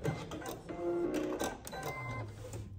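Home sewing machine stitching a backstitch on a drawstring backpack, a steady mechanical whir with brief changes in pace over a few seconds, close and moderately loud, no talking.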